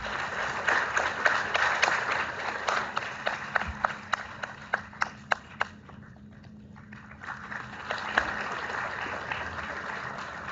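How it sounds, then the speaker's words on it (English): Applause at an orientation session for a business school program in Ghaziabad: scattered, fairly distant clapping with distinct sharp individual claps, thinning in the middle before picking up again. "Can we have a round of applause, please?"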